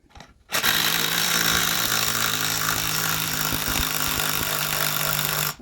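Impact wrench working the pulley off a Saginaw power steering pump, a loud continuous whirring buzz that starts abruptly after a brief quiet moment and runs steadily to the end.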